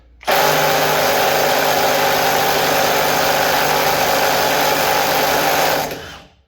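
A 3/8-inch mid-torque impact wrench, Snap-on or Milwaukee, hammers steadily on a stubborn bolt for about six seconds, a loud continuous rattling whine close by that cuts off at the end, with no talking.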